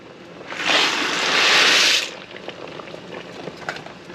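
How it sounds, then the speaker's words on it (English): Pasta water at a rolling boil in a pot on the stove, ready for a box of large elbow macaroni, giving a loud, dense rush of bubbling for a second and a half before settling to a quieter simmer. "Awesome bubbling action going on here with our pasta water."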